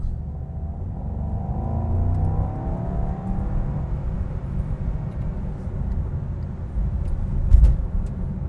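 A 2024 Mercedes-AMG GT Coupe V8 engine roars steadily and builds in pitch as it accelerates, with road and wind noise, close and loud throughout.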